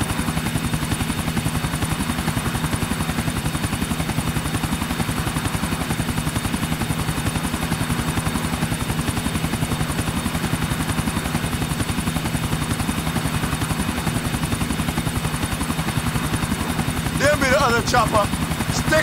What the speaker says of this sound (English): Chopper, stick to him, Nico.